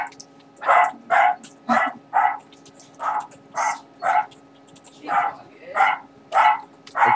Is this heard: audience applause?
no